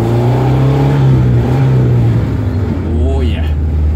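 A 1979 Alfa Romeo Alfetta 2.0 four-cylinder engine revs loud and close, its raspy tone rising and falling over a few seconds while a voice talks over it.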